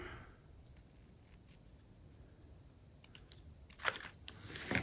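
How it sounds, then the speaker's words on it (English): Scissors cut carefully around a paper piece for a pop-up Christmas card: near-silence at first, then a cluster of crisp, close snips toward the end. "I'm just going to take one of these, just cut it out carefully."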